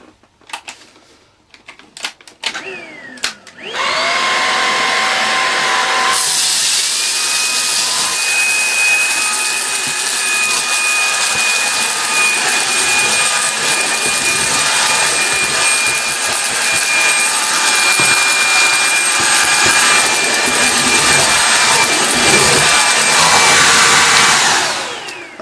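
A Tineco Pure One S12 cordless vacuum cleaner spins up after a few clicks and handling knocks, then runs with a loud, steady, high-pitched motor whine close by for about twenty seconds before winding down.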